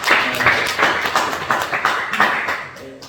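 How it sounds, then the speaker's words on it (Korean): A church congregation claps in congratulation of a newborn baby, a lively patter of many hands with uneven, overlapping beats that stays fairly loud and close for the whole stretch. "우리 모두에게 축하하는 박수 한번 해봅시다."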